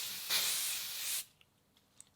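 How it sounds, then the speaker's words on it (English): An aerosol hair spray can releases a single steady hiss lasting about a second, close and clear, followed by a few faint clicks in a quiet room. "It's an aerosol spray."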